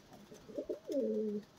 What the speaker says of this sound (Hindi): यहाँ पे 4 कबूतर मेरे को डिफरेंट दिख रहे हैं